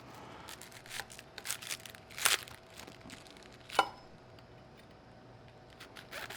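A knife cuts a V-shaped core out of a cabbage half for sweet coleslaw, giving a few crisp, close crunching slices amid quiet handling noise on a cutting board.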